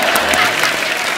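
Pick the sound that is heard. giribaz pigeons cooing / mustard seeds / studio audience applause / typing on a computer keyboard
studio audience applause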